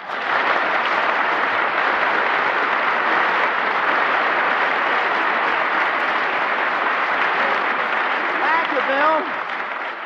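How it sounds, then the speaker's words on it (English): Sustained studio audience applause at a 1953 Bob Hope radio broadcast from Walter Reed Army Hospital, a dense, steady clatter of clapping filling the room at full volume for about nine seconds before tapering slightly, with a brief whistle or tone near the end. "you just give me a head start with some applause"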